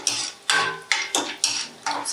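Dry fruits fry in a pan while a utensil scrapes and clinks against the metal in quick, regular strokes, about six close, crisp scrapes over a faint sizzle.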